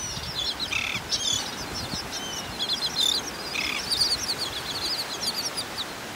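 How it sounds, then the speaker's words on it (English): Seagulls and terns call on a beach in North Naples, Florida, with scattered short chirps and cries at moderate distance over steady surf and wind noise. "A couple seagulls."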